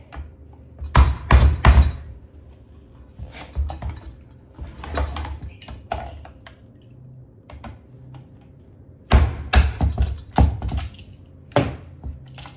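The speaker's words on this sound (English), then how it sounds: "I'm gonna take a hammer and I'm just gonna hit it." A hammer strikes a screwdriver while replacing a garbage disposal: sharp metallic hits land in quick clusters of three or four, separated by pauses, close and loud with no talking.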